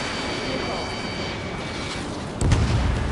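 Jet engine roar runs throughout an Ace Combat 7 dogfight, with a missile attack landing as a loud booming burst near the end, while a radio voice speaks over it.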